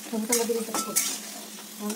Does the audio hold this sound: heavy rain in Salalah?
no